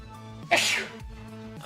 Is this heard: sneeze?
yes